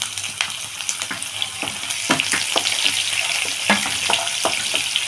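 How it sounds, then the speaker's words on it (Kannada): Onions frying in oil in a pan for puliyogare, a loud, steady sizzle with repeated scraping taps of a spatula stirring them, close and continuous with no talking. "ನೋಡಿ ಈರುಳ್ಳಿ ಸ್ವಲ್ಪ ಫ್ರೈ ಆಗಲಿ"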